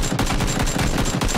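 Rapid gunfire from a PUBG match, a dense run of sharp repeated shots with a steady rhythm, loud and close throughout the short burst.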